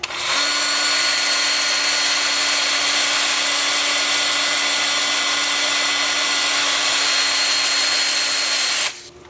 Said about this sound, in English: I'll switch to my 2-inch sanding disc, starting with 180 grit.